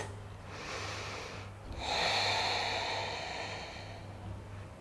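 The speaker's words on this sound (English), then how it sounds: "Breath is moving easily in and out through the nose." During a slow yoga flow, a person breathes audibly through the nose, a soft airy inhale followed by a longer, louder exhale, close and alone over a low steady hum.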